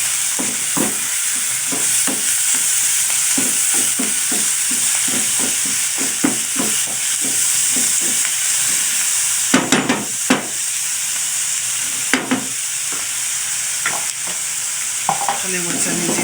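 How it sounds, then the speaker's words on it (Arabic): Boiled coriander stirred into a sizzling egg and chicken spinach mixture in a frying pan, steady frying hiss under repeated scraping and tapping strokes of a spoon, with a few louder knocks. "نزيد القزبر المغلي، نخلط بحال"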